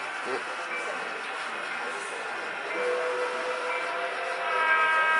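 Steady rumble and rolling clatter of a model train with Southern Pacific locomotives hauling a trailer train at a model railroad museum, with faint high tonal squeals, continuous and fairly close, growing a little louder near the end.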